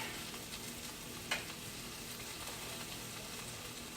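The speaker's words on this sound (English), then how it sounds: "sauteing your veggies, you can turn the heat up a little bit more because you want them to cook" Vegetables sauté in butter in a pan on the stove, a steady close sizzle running throughout with one brief sharp knock of a utensil partway through.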